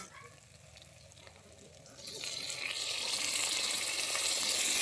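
Yogurt goes into a pan of fried masala for a restaurant-style paneer butter masala, starting with quiet stirring and then swelling into a loud, steady sizzle as it cooks down.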